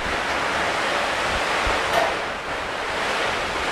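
Floodwater rushing during a typhoon in Bulacan, a loud continuous broadband roar of churning water that holds steady throughout, with a faint brief tone in the middle.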